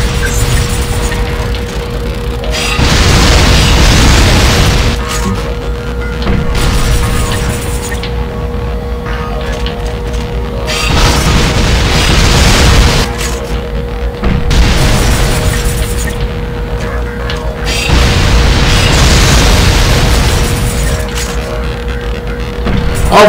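Grenade blasts in the video game Vanquish: four heavy booming bursts roll out every few seconds over a constant hum, each swelling loud and low before easing back.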